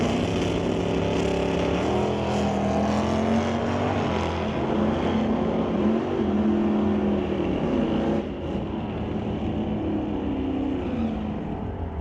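Drag race cars launching side by side, a Monte Carlo against an S10, with loud sustained engine roar and rising revs that fill the whole stretch and dip briefly near the end.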